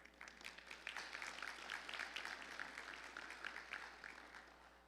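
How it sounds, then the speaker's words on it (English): Audience applause at a community forum, a steady, moderately quiet patter of many hands clapping together for several seconds with no talk over it. "let's give them all a round of applause"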